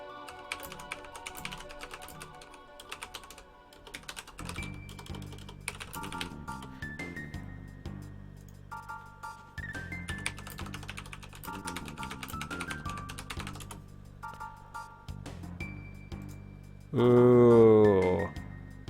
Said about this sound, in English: so excuse the typing.